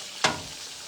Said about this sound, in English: I need to stir this meat again a little bit